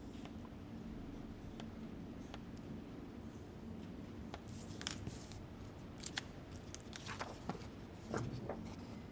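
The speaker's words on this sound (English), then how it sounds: "Grab your scissors and roughly cut him out to start with." Scissors snip roughly through paper while cutting out an alpaca shape for a magnetic bookmark, a series of faint, irregular crisp cuts and rustles against quiet room noise, growing busier toward the end, with no talking.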